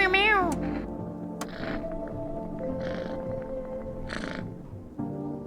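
A cat in the video game No I'm Not a Human gives one clear rising-and-falling meow at the very start, then the game's low ambient drone and soft background tones carry on alone.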